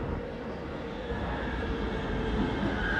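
An Inspiro metro train rolls through Rondo ONZ station on a technical run, a steady low rumble of wheels and motors with a faint rising whine and light clatter, with no talking.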